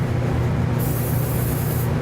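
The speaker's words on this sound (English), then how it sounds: "So go ahead and spray the top of the steak." A can of soy-oil cooking spray hisses onto the top of a steak in a steady burst of about a second, over a constant low kitchen hum.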